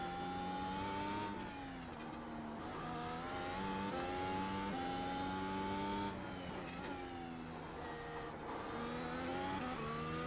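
Racing video game car lapping the Nürburgring Nordschleife, engine droning and revving through repeated gear changes, including an accidental double upshift, steady and fairly quiet with no talk.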